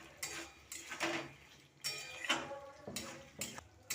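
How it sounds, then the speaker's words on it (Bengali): Pumpkin and potato curry stirred in a pan after sugar goes in, giving a series of separate metallic scrapes and clinks from a utensil against the pan, spaced irregularly and fairly close, with no talking. "চিনিটা দিয়ে আরও একবার নাড়িয়ে নেব"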